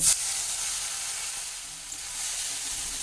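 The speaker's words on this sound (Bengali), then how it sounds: "এই নারকেল কোড়াটা আমি তেলের মধ্যে দিয়ে হালকা করে একটু ভেজে নেব" Grated coconut frying in hot oil in a pan, a steady, close hiss of sizzling that holds evenly for a few seconds without any voices.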